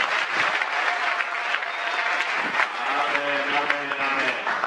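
Church congregation applauding during a Sunday worship service, a steady dense clapping that fills the room, loud and close, with voices calling out over it near the end.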